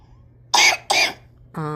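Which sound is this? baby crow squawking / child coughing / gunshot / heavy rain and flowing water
child coughing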